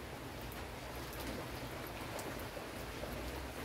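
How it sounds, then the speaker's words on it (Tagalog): Rain falling steadily outdoors, a soft, even wash of droplets at low level with no voices. "Umulan guys eh."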